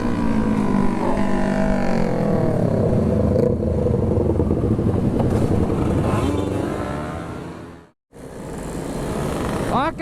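Two-stroke motorcycles rev hard and ride off, a loud buzzing engine roar with rising and falling pitch that cuts out briefly before resuming, close by with people talking over it.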